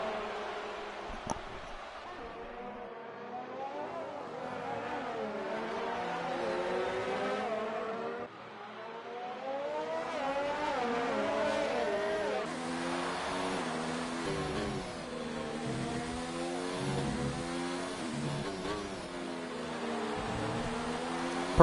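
Racing car engines in an F1 video game on PS4 at Abu Dhabi whine and shift through rising and falling revs, continuous and loud, with no speech.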